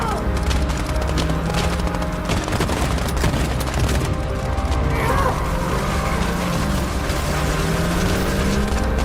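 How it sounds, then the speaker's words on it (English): Police open fire in the Life Is Strange 2 video game, a dense, continuous barrage of gunshots and booms layered over loud mechanical and engine-like noise, with no clear pauses. "Shoot! Open fire!"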